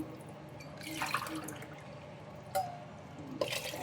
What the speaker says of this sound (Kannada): ಓಕೆ, ಈಗ ನೀರು ಹಾಕೋಣ.